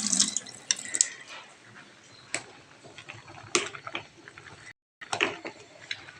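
Tap water runs into a kitchen sink while something is rinsed by hand during morning housework, with intermittent splashes and clinks at close range, broken by a brief silent gap.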